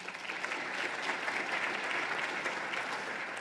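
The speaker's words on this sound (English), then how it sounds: "So, round of applause for Dheeraj." Steady, dense applause from an audience fills the whole stretch, a continuous wash of clapping at even loudness without voices.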